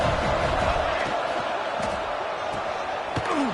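A stadium crowd in a college football video game roars continuously, a dense, steady wash of cheering with occasional sharper shouts and thuds on top.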